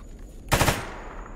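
Gunfire in the video game Escape From Pripyat: a single loud, close burst of rapid shots lasting about a quarter second, then a fading echo and faint background ambience.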